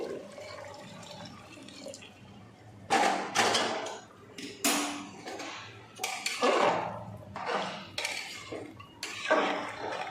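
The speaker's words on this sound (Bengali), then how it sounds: "জলটা আমি প্রেসার কুকারে ঢেলে দিচ্ছি।" Water being poured into a pressure cooker during biryani cooking, heard as bursts of splashing and gurgling with metallic clinks, close by, in several separate pours with pauses between them.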